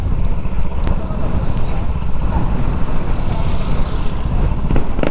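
Strong wind buffets the microphone during a motorcycle ride through Infanta, Quezon Province, filmed on a GoPro Hero 10, a constant loud low roar with engine and road rumble and a faint voice.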